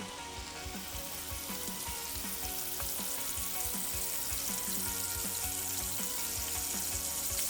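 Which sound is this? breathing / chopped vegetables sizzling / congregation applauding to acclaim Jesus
chopped vegetables sizzling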